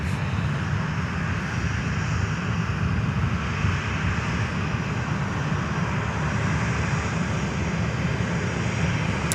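A Delta airliner arriving at Fort Lauderdale airport gives a steady, moderately loud engine rumble that holds evenly throughout, with no voices over it.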